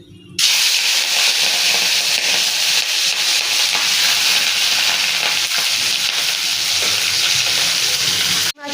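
Shrimp fry in hot oil with bay leaf and cumin seeds, a loud, constant sizzle that starts abruptly and runs evenly for about eight seconds before cutting off at the end.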